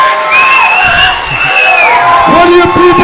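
Wrestling crowd at an independent show cheering, whooping and shouting loudly and continuously, with scattered individual yells and voices rising above the dense roar.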